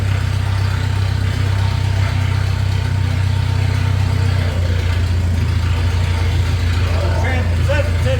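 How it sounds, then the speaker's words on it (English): A salvaged four-wheel-drive vehicle's engine idles steadily and loud close by, a constant low rumble throughout, with a person's voice heard over it. "it would appear as though I have a running engine"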